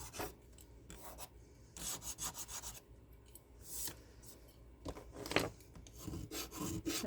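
Scraping a thrifted furniture piece during upcycling: short, raspy scrapes come in irregular bursts at close range, fairly quiet overall, with pauses between strokes and no talking.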